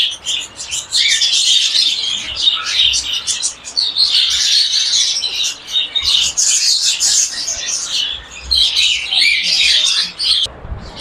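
A bird farm's lovebirds and cockatiels keep up a dense, continuous chorus of high chirps and squawks, close and loud throughout, with no clear pauses.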